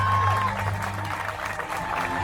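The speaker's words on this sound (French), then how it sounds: "on peut l'applaudir très fort, Jessica." Steady clapping from a crowd at a hypnosis show fills the room, loud and continuous, with some voices mixed in.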